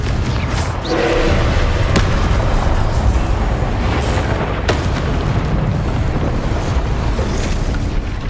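Confringo blasting spell going off in the Hogwarts Legacy video game, a series of heavy booming explosions with low rumbles and sharp bursts, loud and close, no talking.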